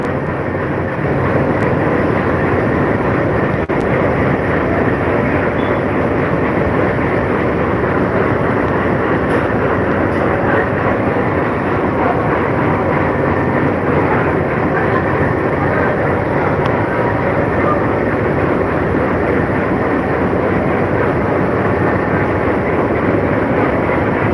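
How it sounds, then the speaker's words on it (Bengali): Sagardari Express passenger train idling at Darshana Halt station, a steady broadband rumble of engine and station ambience holding at constant loudness throughout, with no clear pass-by. "সাতশো ষোলো সাগরদারি এক্সপ্রেস ট্রেনটি স্টেশনে অবস্থান করেছে"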